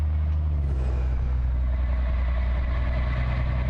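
Diesel rumble of an old-school B61 Mack truck pulling a Fruehauf tanker in American Truck Simulator, with a brief turbo blow-off hiss early on over a steady, loud low engine drone.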